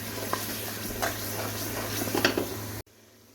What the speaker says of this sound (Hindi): इस मसाले को आप 5 मिनट भूनें ताकि ये अच्छी सी ग्रेवी बन जाए